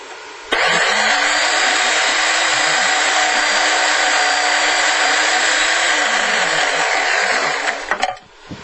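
Food processor fitted with a grating wheel shredding malanga: a loud, steady motor whir with a grinding rasp, running for several seconds before cutting off with a short rattle.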